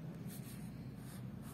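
A hand writing out matrix terms, with a brief run of soft scratching and tapping strokes of pen or marker, close and quiet with no talk.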